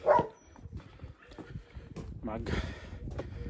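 Several loose dogs bark and yip outdoors, a sharp bark at the start followed by scattered barks and whimpers at moderate distance, mixed with a person speaking.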